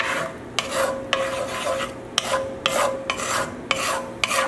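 A mustard cream sauce is stirred in a pan with a utensil, giving repeated scraping strokes and clinks at a steady rhythm over a faint background hum.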